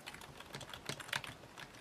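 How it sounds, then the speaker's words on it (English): Quiet, rapid clicking of keys being typed on a computer keyboard, a quick irregular patter of taps heard alone. "As I start typing here, you're going to see what happens."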